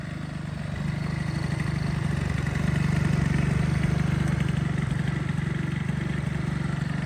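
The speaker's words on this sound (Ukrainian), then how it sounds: "А дивіться, як двигунчик шепче." A Honda Dio AF-34 scooter engine idles quietly and evenly, a low steady putter with a slight lift partway through, no voices.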